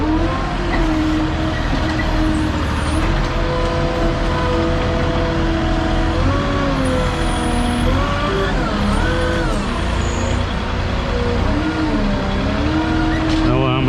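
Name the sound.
backhoe reversing out of a ditch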